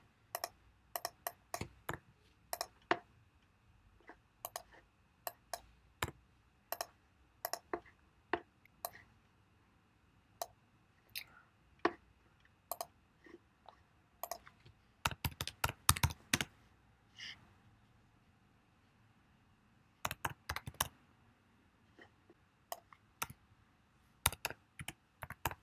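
Typing on a computer keyboard while entering product names, with irregular bursts of close, crisp key clicks separated by short pauses and a quick flurry of keystrokes midway, no voices.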